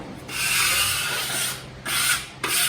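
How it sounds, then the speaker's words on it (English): A flexible stainless steel spatula with rounded edges spreads concrete filler thinly across a concrete worktop, giving a close, steady scraping rasp in one long stroke followed by two shorter strokes. "using a spatula keeps it nice and thin"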